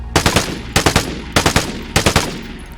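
Bursts of automatic gunfire from a prone player in the video game Vigor, four loud rapid volleys of several shots each, evenly spaced with brief pauses between, no talking.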